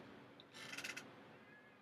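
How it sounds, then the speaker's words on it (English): A house cat lets out one brief, faint meow indoors, heard alone against a quiet background hum. "Why is my cat bothering me during this live right now?"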